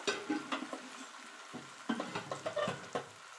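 Flattened-rice rasbora fritters fry in shallow oil over low-to-medium heat, giving a soft, quiet sizzle with small crackles and pops.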